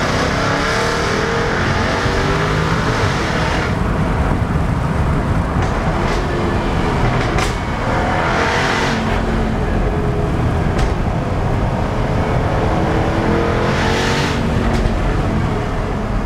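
A 2015 Jaguar F-Type R AWD engine roars loudly and continuously under hard acceleration in second gear, with brief rising whooshes and gear-change surges throughout.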